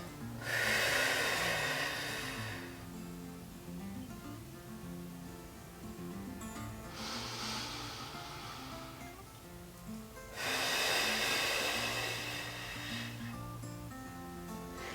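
A slow, drawn-out exhale from a pregnant woman doing a pelvic floor exercise, close and breathy, following an inhale, with a steady hiss that swells and fades in long phases against a low background hum.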